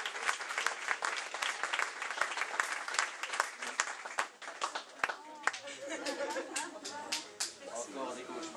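Applause at a teachers' farewell speech ceremony, with distinct sharp claps over a steady crowd patter. Voices start to come through partway in as the clapping continues.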